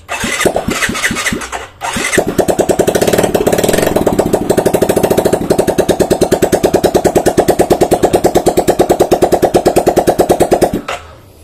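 A Yamaha Mio J motorcycle engine with a stalling fault sputters, cuts out briefly, then catches and runs with a loud rapid popping beat, held steady before shutting off.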